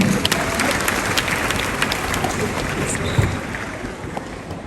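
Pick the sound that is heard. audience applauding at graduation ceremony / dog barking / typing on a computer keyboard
audience applauding at graduation ceremony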